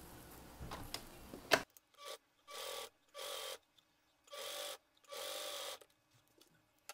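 A sewing machine stitches a folded fabric hem for a box-style toiletry bag in several short bursts of rapid mechanical whirring, separated by brief pauses, after some quiet handling at the start.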